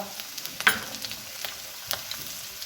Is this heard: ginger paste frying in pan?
yes